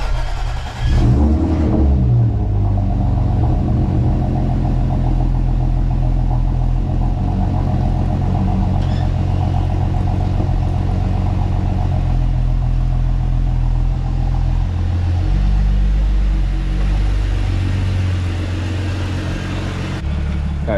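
A stage 2+ tuned Audi S4 rolls out of a garage, its engine rumbling low and steady up close with a mild rise in revs and a constant deep drone, no voices.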